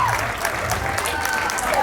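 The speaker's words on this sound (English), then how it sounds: "Give a round of applause for the recent graduates of Akons International School." A crowd at an international school's 25th anniversary celebration applauding recent graduates, a short, steady burst of many people clapping with a few cheers and voices underneath.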